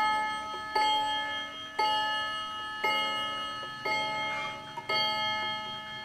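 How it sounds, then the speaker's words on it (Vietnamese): A Japanese-made clock sounds its chime in a shop of antique furniture and collectibles, five ringing bell strikes spaced about a second apart, each ringing out and fading before the next, close and clear. "30 phút là nó sẽ đổ chuông một lần."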